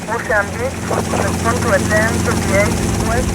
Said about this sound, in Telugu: హెలికాప్టర్ పైన తిరుగుతుంది